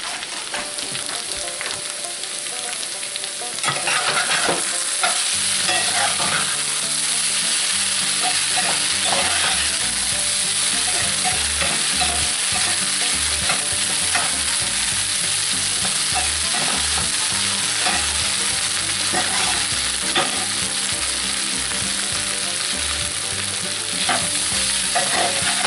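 Sausage gravy sizzles and bubbles steadily in a cast iron skillet, a loud, continuous close-up frying hiss with occasional stirring scrapes, running alone without talk for nearly half a minute.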